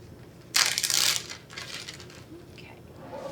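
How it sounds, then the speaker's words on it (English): A plastic bag for marinating chicken crinkles and rustles in a loud, close burst, followed by softer handling rustles against a faint room background. "Today I'm going to use a plastic bag."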